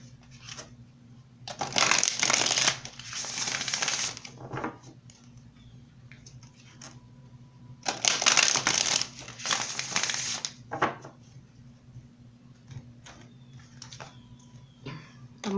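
Tarot cards are shuffled in two loud, dense bursts of rapid riffling and crinkling, with softer card handling and taps between and after them.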